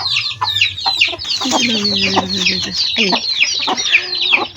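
Hen clucking near a batch of newly hatched chicks being fed, with soft chick peeps throughout and a few louder, agitated clucks over a steady farmyard background.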